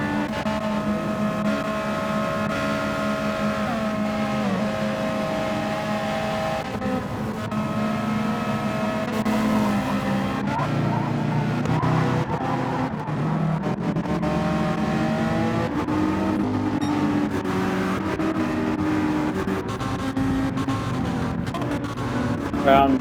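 GT3 race cars at Watkins Glen in a racing video game, engines droning and shifting pitch through gears as they accelerate and brake, loud and continuous with a commentator talking over them.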